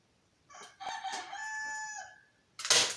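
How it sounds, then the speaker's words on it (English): A single rooster crows close by in a long, loud cock-a-doodle-doo at a homestead chicken coop, followed by a short burst of rustling or flapping noise. "You're the baddest rooster on the farm, Jack."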